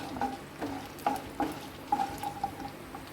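A small tempering of mustard seeds, chana dal, urad dal and broken red chilies fries in hot oil for a coconut chutney. It makes a quiet sizzle with faint popping and scraping stirring taps at an irregular rhythm.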